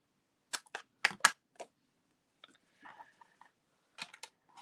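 Metal snips trimming excess card stock from a handmade Easter card, several sharp quick snips in a cluster, then softer paper rustling and a few more crisp cuts, close and alone.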